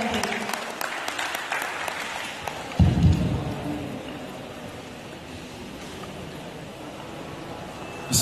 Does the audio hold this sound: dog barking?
no